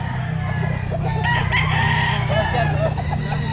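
A rooster crows at a busy pet market in Grotto, Pangasinan, its call rising clearly over a loud, constant crowd murmur and other birds clucking nearby.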